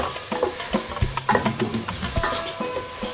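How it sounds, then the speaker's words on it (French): A utensil stirs tajine el berania sauce in a cooking pot, producing soft intermittent scrapes and light bubbling sizzle across a few seconds with no talking. "Et on remue notre sauce."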